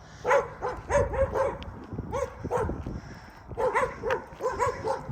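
A dog barks in quick, loud bursts, the yaps coming in clusters with short pauses between them, close by and with no talk.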